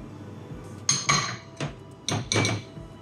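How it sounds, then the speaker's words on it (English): A spatula scraping honey out of a bowl, heard as a series of close, clinking and scraping strokes against the bowl, about five distinct hits in uneven rhythm. "make sure you're scraping that out with a spatula"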